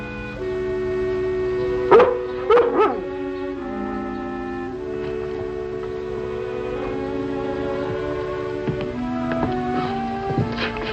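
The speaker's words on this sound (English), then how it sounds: "I thought I heard Lassie barking" A dog barks a few times in the distance, two quick pairs of yelps, over a long sustained whistle-like tone and low mechanical drone.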